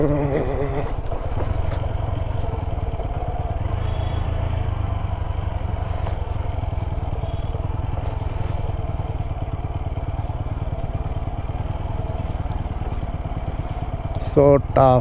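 Motorcycle engine braking in gear while descending a steep hill, a steady low throbbing engine drone with a rattling clatter that continues throughout, close and loud, with a rider talking over it near the start.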